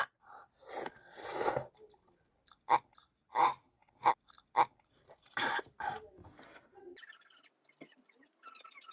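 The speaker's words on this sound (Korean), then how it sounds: "조금씩 먹어볼게요" Crunchy bites and chewing of a homemade custom ramen, in loud close bursts with brief pauses between them, followed by quieter rustling near the end.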